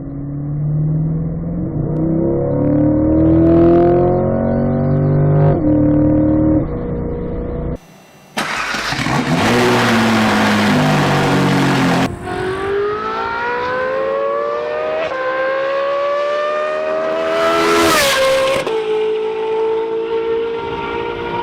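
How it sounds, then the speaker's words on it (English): A V8 engine revs loudly through several long, rising and falling bursts, with a harsher, raspier flat-plane-crank V8 taking over partway through from a conventional V8. "If you haven't heard the difference between a flat plane crank and a normal V8"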